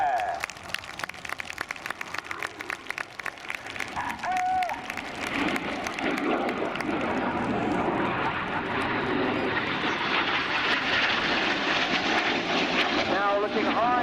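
Jet aircraft of the RAF Red Arrows Synchro pair roaring through a flying display at Air Waves Portrush, a loud sustained rush that swells and sweeps across, with a crowd and applause faintly beneath and a commentator talking over it.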